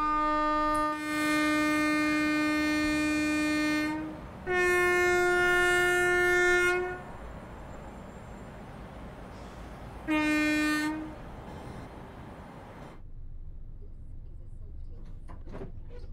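A train sets off in Train Sim World 5 on the London King's Cross to Leeds run, sounding loud sustained horn blasts (three of them) over a steady rumbling engine, then rolling on more quietly.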